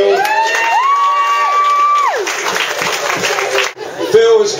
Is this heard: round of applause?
yes